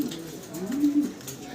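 Golla pigeons coo in one soft, rolling call, close by and clear, over a quiet background.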